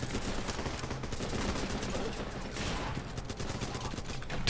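A video game battle with gunfire and a grenade launcher gives dense, continuous rattling shots and muffled blasts that blend into a steady wash of combat noise, with a voice faintly present under it.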